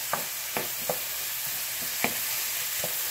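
Apple pieces caramelizing in a pan for a caramelized apple flan give a steady close sizzle, punctuated by several sharp clicks and scrapes of a utensil stirring against the pan.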